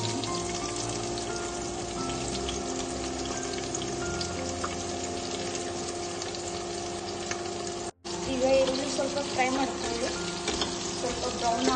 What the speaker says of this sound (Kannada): ಇದುವರೆಗೆ ಈರುಳ್ಳಿನ ಫ್ರೈ ಮಾಡ್ತೀವಿ